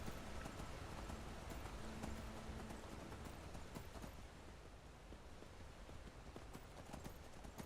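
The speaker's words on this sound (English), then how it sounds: "I think if we take this horse up here." Steady clip-clop of a horse's hooves while riding through rainy countryside in an Elder Scrolls game set in the Iliac Bay, continuous and close over a constant bed of rain-like noise.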